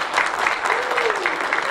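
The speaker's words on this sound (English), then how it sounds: "Give them a big clap, please." Brief burst of applause from a school assembly crowd, a dense even patter of many hands clapping at moderate distance, with a faint voice briefly under it.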